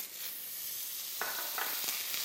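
Mushrooms fry in a hot pan with butter, giving a steady close sizzle with a few brief sharper crackles toward the end.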